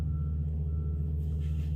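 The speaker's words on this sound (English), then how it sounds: "somebody on the 18-wheel truck is driving right in front of me" An 18-wheeler truck idles close by with a deep, steady engine rumble and a faint repeating reverse-warning tone over it. Occasional air hiss comes in near the end.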